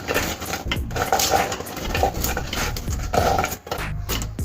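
Chopped onion and coriander for a crispy bread snack get mixed by hand in a bowl, with close, irregular clattering and scraping and a rustle of the ingredients being tossed.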